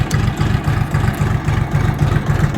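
Kentavr 244SX mini tractor engine running just after a start, a loud, close diesel chugging with a fast, even low-pitched pulse throughout and no speech over it.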